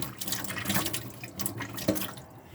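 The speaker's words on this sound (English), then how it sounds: "the water will continuously run out the taps" A caravan water tap sputters and gushes in irregular bursts while the pump builds pressure, with splashing and dripping close by and no voices.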